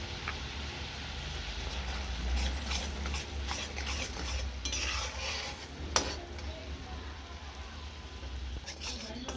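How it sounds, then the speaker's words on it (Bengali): Spice masala with Kashmiri chilli powder sizzles in a pan while being stirred for a spicy fish-roe paturi, with a continuous fry hiss, scraping spatula strokes and one sharp clink. "এবার মশলাটাকে একটু কষিয়ে নেব।"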